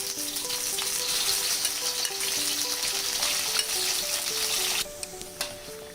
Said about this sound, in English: We will be frying the mutton